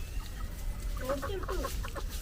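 A chicken clucks several times in quick short bursts over a steady low background rumble.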